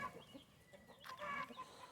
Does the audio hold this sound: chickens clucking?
yes